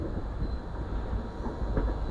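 Train in motion at the start of a family journey to Bangalore, a steady low rumble and rolling noise filling the carriage throughout, with no talk.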